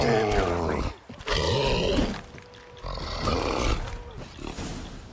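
A bear roars and grunts in combat in The Witcher 3, loud, harsh growls repeating in bursts across the fight with brief pauses and game sounds around them.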